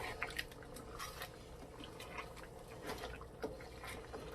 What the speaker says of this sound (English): You hear that bubbling?